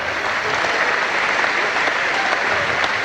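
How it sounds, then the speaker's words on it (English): Crowd applause at a fight night event, a dense, even roar of many hands clapping together, loud and sustained for the whole stretch. "Let's give him a round of applause."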